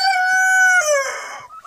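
A two-month-old Hybrid Converter turkey gives a close, clear, high-pitched sustained call that breaks into a rougher, noisier squawk, heard alone without talk.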